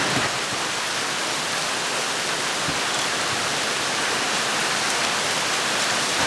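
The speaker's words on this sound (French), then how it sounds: "En fait, ici, c'est que ça pleut fort d'un coup et puis ça s'arrête aussi tout aussi vite." Heavy tropical rain pours down suddenly on a Thai island, a steady dense hiss of downpour filling the air evenly and close by throughout, with no talk over it.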